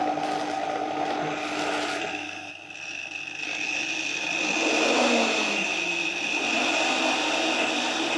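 A high-performance blender whirs steadily in a home kitchen, its motor note shifting in pitch as the load changes, loud and continuous with no voices over it.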